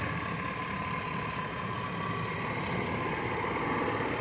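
A 2005 Chevy Tahoe Special Services 4x4 with a 5.3L V8 idles quietly in a clean engine bay, a steady low hum with a constant even drone throughout, no voices over it.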